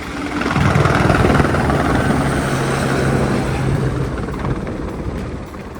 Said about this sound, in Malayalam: ഈ കാലാവസ്ഥയിൽ നോക്കി ഹെലികോപ്റ്റർ പറക്കുന്നത്